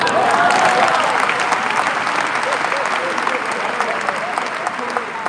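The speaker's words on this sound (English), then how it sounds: "so you have to clap harder than" An audience claps steadily at a live education event, the applause dense and sustained at first and gradually thinning toward the end, with no speech over it.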